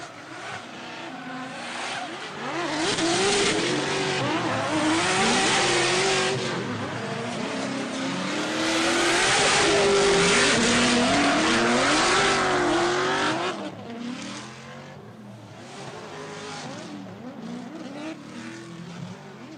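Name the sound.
drift cars racing with revving engines and tire squeal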